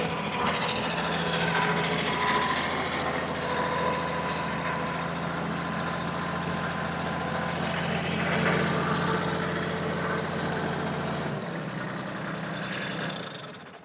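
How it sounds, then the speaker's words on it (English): A tractor engine runs at a steady, close, droning idle for most of the clip, then the pitch shifts and drops near the end as the engine changes speed. "I'm getting the tractor"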